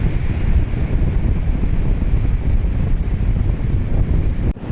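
Sea water surging and splashing over two fishermen casting nets from a boat, a steady loud roar of waves and wind buffeting close by throughout, with no voices.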